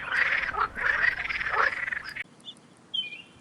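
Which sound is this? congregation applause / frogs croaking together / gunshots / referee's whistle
frogs croaking together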